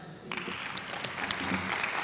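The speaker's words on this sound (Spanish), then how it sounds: "para quienes pido un fuerte aplauso" A conference audience applauds an introduced speaker at a medical guideline lecture, a dense, sustained wave of clapping that swells after a brief start and carries on steadily to the end.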